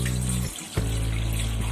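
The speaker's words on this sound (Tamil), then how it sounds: "இப்போ நம்ம ஒரு பாத்திரத்தில் திட்டமான அளவு தண்ணி ஊற்றிட்டு" Water pours steadily from a tap into a cooking pot while preparing butter puttu, a continuous close rushing stream that briefly stops mid-way before resuming at the same level.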